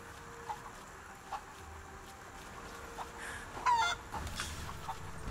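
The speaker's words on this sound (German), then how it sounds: "Aber komm, die Hühner sind doch knuffig." Chickens in the Rise of the Tomb Raider video game give soft, scattered clucks at low volume, with a louder squawking burst partway through over a quiet game ambience.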